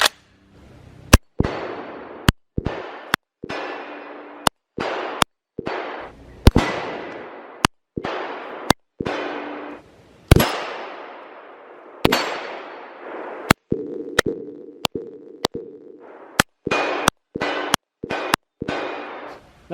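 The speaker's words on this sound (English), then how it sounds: "Nothing says piss off like a mag dump from a 308." Adams Arms small-frame .308 AR10 patrol rifle fired in a rapid magazine dump, roughly twenty loud sharp shots in an uneven quick rhythm, each with a ringing outdoor echo tail, no voices.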